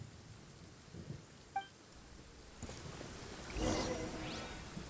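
Rain and rolling thunder in the Genshin Impact video game: a soft rain hiss runs throughout, a short chime sounds, then thunder swells and rumbles loudly in the second half.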